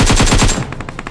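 AKM fire in BGMI mobile game rattles off as a loud, rapid burst of about five close shots, then trails into fainter, more distant shots.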